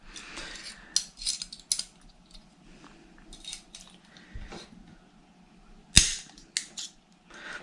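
Head bolts being undone on a small RC nitro engine, heard as faint metallic clicks and ticks of a tool at close range, with a couple of sharper snapping cracks standing out in a quiet room.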